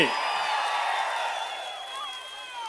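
Dense crowd noise from a political rally in Palakollu, steady applause and cheering filling the whole stretch at an even, loud level without breaks.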